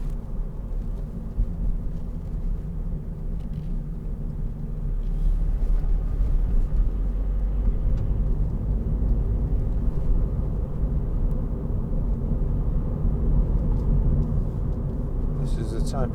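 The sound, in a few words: 2015 Toyota GT86 driving in fifth gear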